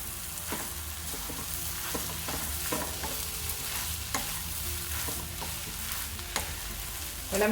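Egg kothu parotta, chopped parotta pieces mixed with cooked egg, being stirred and fried in a pan: a soft continuous sizzle with repeated scraping strokes and spatula knocks at an uneven pace, fairly quiet and without talk.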